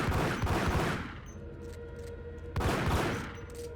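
Bursts of rapid gunfire in the video game Max Payne, two loud dense volleys separated by a brief lull with ringing tail.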